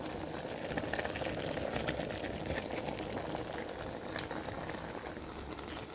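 Frozen shrimp boiling in a pot for pinakbet, a steady low bubbling and simmering hiss throughout, fairly quiet with a few small pops and no voices.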